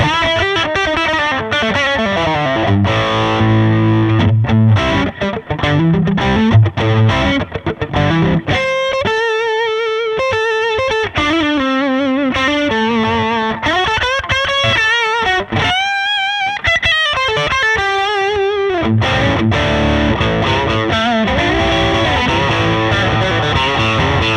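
Electric guitar on its P-90 neck pickup played alone with a warm, slightly overdriven tone, moving through chords and melodic runs in a continuous, full-bodied passage.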